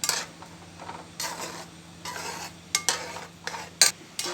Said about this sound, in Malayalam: ആദ്യം കുറച്ച് ഒഴിച്ചിട്ട് നല്ല പോലെ തന്നെ ഇളക്കിയിട്ട് നമ്മൾ എന്നിട്ട് ബാക്കിയും കൂടെ അങ്ങോട്ട് ഒഴിച്ചു കൊടുക്കും